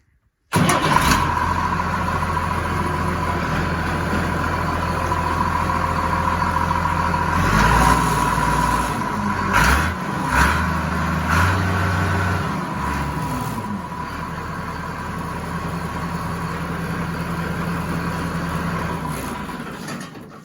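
An orange tractor cranks and fires up, then settles into a steady, close diesel-like idle that briefly revs and dips midway before holding a constant running rumble to the end.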